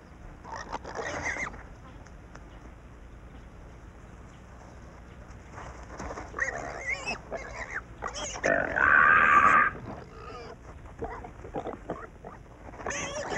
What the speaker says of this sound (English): The piglets instinctively run for their lives, terrified by the victim's squeals.